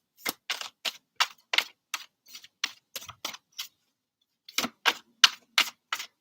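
Playing cards are shuffled close by in fast bursts of sharp riffling clicks, a run of about ten snaps, a brief pause, then another quick flurry, with no voices over it.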